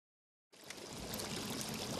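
Water pours and rushes in the Cryostasis video game, starting abruptly after a short silence and then flowing steadily, loud and broadband with no talk over it.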